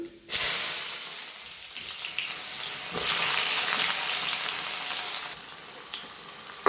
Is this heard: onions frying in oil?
yes